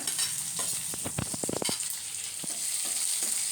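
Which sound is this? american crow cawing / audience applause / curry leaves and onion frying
curry leaves and onion frying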